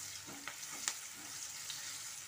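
Chopped onion sizzles steadily in a hot pan, a continuous bright frying hiss broken by a few soft stirring scrapes.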